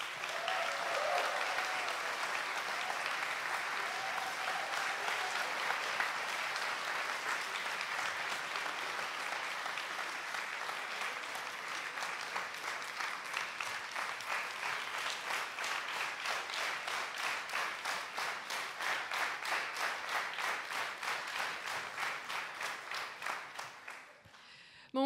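Concert audience applauding a teacher at the Emīls Prize III symphony orchestra and laureates concert: dense, loud, sustained clapping from a large hall crowd, turning more rhythmic and pulsing toward the end before fading out abruptly.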